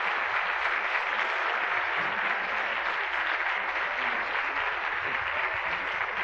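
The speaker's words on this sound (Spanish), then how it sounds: "le brindemos un fuerte aplauso al maestro José Reséndiz" Steady audience applause fills a recognition ceremony at a bilingual education research center, dense and even clapping from a sizeable crowd for the full stretch with no talk over it.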